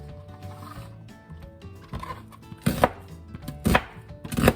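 A knife chops onions into big chunks on a cutting board, a few distinct loud thuds arriving about once a second after some quieter background clatter.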